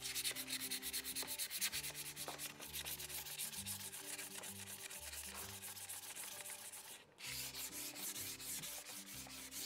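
An old wooden chair is sanded by hand with medium-grit sandpaper, giving steady rhythmic rasping strokes, close and continuous, with one brief pause near the end.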